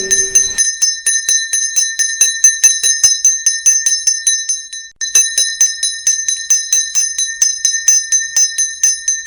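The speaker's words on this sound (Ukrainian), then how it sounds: "Слухайтесь малиновий передзвін для вас, випускники, прощальний він." A bright metallic school bell rings in rapid, steady strokes at a last-bell ceremony for graduates, loud and close, pausing briefly midway before the fast ringing resumes.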